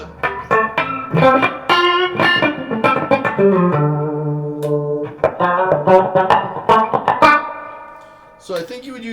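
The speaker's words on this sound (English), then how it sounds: "it's almost in place of like a slap echo. It's kind of chorusy though." An electric guitar played through the double tracker effect of a Keeley Mod Workstation pedal, strummed chords and picked notes with a doubled, slightly chorused slap-echo quality, close and fairly loud.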